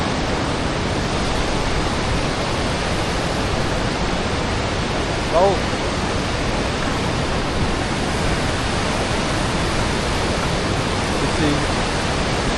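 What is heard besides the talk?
waterfalls in Croatia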